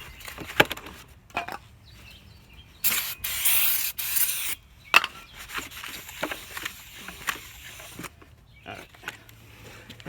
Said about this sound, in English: clean them up first with some of this brake clean, because this has a coating from the factory, so they don't rust